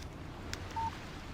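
A single short electronic beep of a phone text message alert in the video game Alan Wake, quiet and brief over a low background hum.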